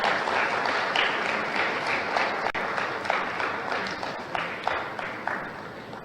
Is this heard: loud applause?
yes